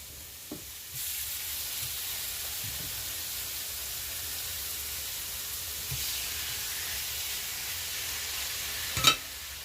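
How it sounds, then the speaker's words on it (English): Steady sizzling hiss of chicken frying in a hot pan, with a few faint clatters and taps over the continuous crackle. "you don't want it too hot, but you do want to hear that sizzle"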